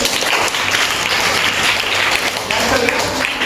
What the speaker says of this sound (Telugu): మీరు కూడా ఒకసారి క్లాప్స్ పెట్టండి